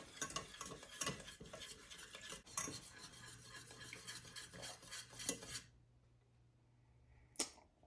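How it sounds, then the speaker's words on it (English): Utensil scraping and clinking through a chicken cordon bleu casserole mixture in a pan, steady busy stirring for several seconds before the sound drops away to near silence with one last sharp clink. "Then we just keep stirring that for about 3 minutes."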